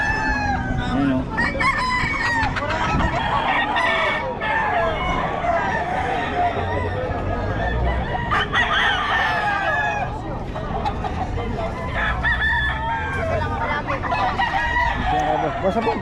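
Roosters from Nueva Ecija crowing repeatedly and clucking, several birds close by, with people talking in the background throughout.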